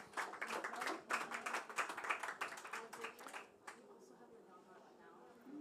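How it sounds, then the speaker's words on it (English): An audience gives a round of applause at a food and climate conference, with quick, fairly sparse clapping that fades after about four seconds into quieter room sound. "a round of applause, please"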